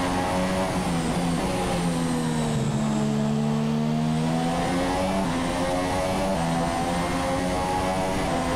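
Formula 1 car engine from the F1 2017 racing game at Singapore, pulling away with a loud, sustained high-pitched scream that climbs in pitch, dips at a gear change and keeps rising.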